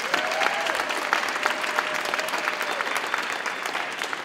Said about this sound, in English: can we just give all the speakers a round of applause